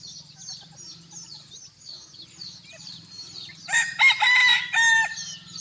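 After soft background bird chatter and a low hum, a bantam rooster lets out one loud, close crow near the end.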